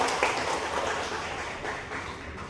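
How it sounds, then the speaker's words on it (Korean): Congregation at a Korean church service applauding, a dense steady patter of many hands clapping close by, with no voices over it. "우리 두 분 집사님에게 박수 하나 하겠습니다"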